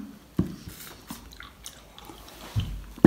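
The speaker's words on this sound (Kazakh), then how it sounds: "Құрт жеп отырмын." Kurt, hard dried cheese balls, being bitten and chewed up close with sharp crunchy bites and softer grinding chews between them, loud and close, with no talk.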